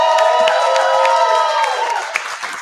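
A large crowd cheers and applauds loudly and close by, with whoops and shouted voices rising over steady clapping that eases slightly toward the end.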